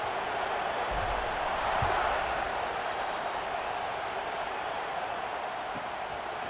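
Video-game stadium crowd in EA Sports College Football 26 at kickoff, a steady, dense roar of many voices filling the whole stretch at an even level, with a slight swell partway through.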